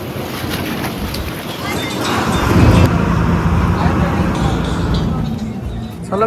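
A boat crossing the sea to the Vivekananda Rock Memorial at Kanyakumari, with a steady engine drone, wind buffeting the microphone and waves washing around the hull, loud and continuous throughout.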